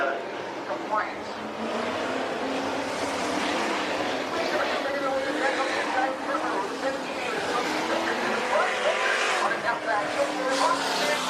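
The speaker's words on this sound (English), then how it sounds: "Another 6 cars on the racetrack." Race cars roar around the track during an 8-lap heat race at Bakersfield Speedway, a continuous distant engine drone with rising revs, heard under an announcer's talk.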